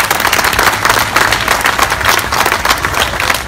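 A crowd at a grand opening ceremony for a city plaza gives a loud round of applause, dense, close clapping that stays steady and vigorous for the whole stretch.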